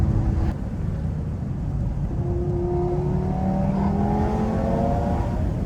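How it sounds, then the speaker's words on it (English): A five-cylinder engine in an Audi TT hums steadily from inside the cabin, its tone climbing gradually as it revs under acceleration, with low rumble throughout. "this thing really sounds like a mini supercar with the 5-cylinder."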